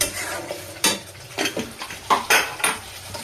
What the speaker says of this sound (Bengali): এবার আমি এর মধ্যে ওইটা ঢেলে দেবো রাজমাটা ঢেলে দেবো